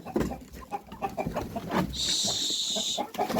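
Bulgarian hens cluck in short, repeated bursts close by, with a sustained high squawk partway through and scuffling noises in the background.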